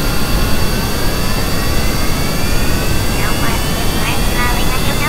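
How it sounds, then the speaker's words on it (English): Plane jet engines roar in Kerbal Space Program, a loud, continuous broadband rush with faint rising and falling tonal sweeps partway through. "Turns on its engines"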